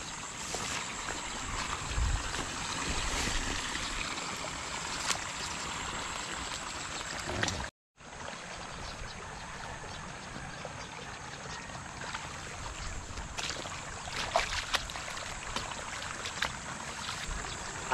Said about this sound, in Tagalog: Ito po naman ay isang outlet natin para itapon yung tubig papunta dito sa mga palayan.